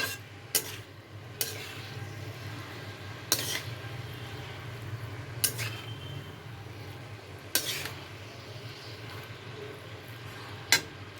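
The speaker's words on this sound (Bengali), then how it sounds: "এটাকে এখন সবকটা ভালো করে একদম মিশিয়ে নেব।" Egg hakka chowmein being tossed and mixed in a pan: a handful of sharp metallic clanks spaced a couple of seconds apart over a faint steady sizzle, quiet overall.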